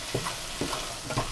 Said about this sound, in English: We have to cook this until the masala oozes out the oil.